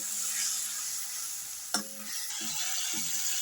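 Ground coriander, cumin, chili and turmeric frying in oil for plantain koftas, a steady close sizzle with a few scraping stirs of a spoon in the pan.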